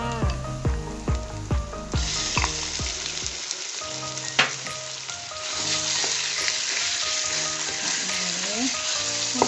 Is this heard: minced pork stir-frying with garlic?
yes